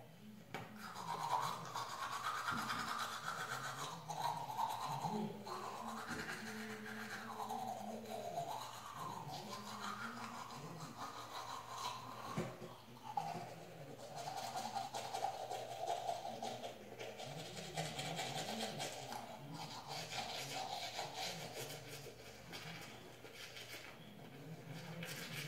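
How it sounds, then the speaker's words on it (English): Someone brushes their teeth with a toothbrush at bedtime, a close, continuous wet scrubbing with shifting strokes that runs unbroken for about twenty-five seconds, soft and without talk. "you need to brush all your teeth, not just the ones that show"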